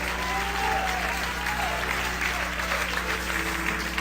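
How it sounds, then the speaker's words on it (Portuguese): A church congregation applauds steadily, a dense wash of many hands clapping at moderate distance, holding even throughout with a faint hum beneath. "Isso merece uma salva de palmas maior"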